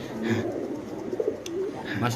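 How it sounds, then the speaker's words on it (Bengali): A Spanish pigeon, a female, coos in low repeated murmurs at close range, with someone talking over the calls throughout. "আমরা কবুতরের ডাকটা একটু দেখা দিচ্ছি আপনাদের"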